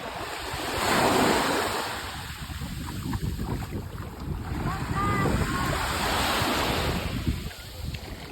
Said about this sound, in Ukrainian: Воно вже море, ми зараз туди дійдемо.